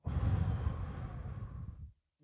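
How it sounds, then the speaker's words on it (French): A long, breathy exhale during a calming breathing exercise, steady and close for nearly two seconds before stopping, followed by a brief faint sound. "Une respiration."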